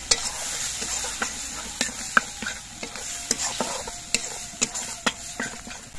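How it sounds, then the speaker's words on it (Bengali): Spice masala with chopped tomato and turmeric sizzling in a pan. Sharp, regular clacks of a spatula against the pan punctuate a continuous sizzle, and no one speaks. "এবার মশলাটা কিছুক্ষণ কষিয়ে নিতে হবে।"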